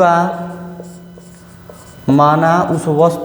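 A marker squeaks across a board while a maths teacher writes out a profit-and-loss percentage solution in a Hindi lesson. Steady scratchy strokes run for about two seconds, then a louder voice comes in over the writing.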